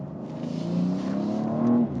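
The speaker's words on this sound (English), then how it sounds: "The acceleration in this vehicle is just truly beautiful." BMW X3 M Competition accelerating, a smooth rising engine note climbing steadily over two seconds before easing off, heard from inside the cabin at moderate volume with no talking.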